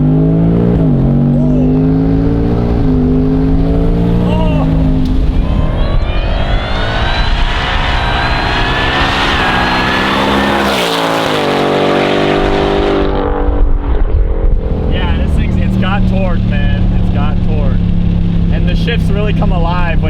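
A NASCAR Camaro engine is floored in track mode with manual shifting, roaring loud and close as revs climb in long rising sweeps, dropping at gear changes, then pulling hard again, while a person briefly speaks over it.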